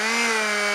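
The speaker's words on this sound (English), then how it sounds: "I'm just going to mark around the outside of my container, and then I can cut around it with a multi-tool." An oscillating multi-tool cuts into a plastic container in a short, loud, steady buzzing whine with a strong tonal hum. It sounds close and continuous, and no one talks over it.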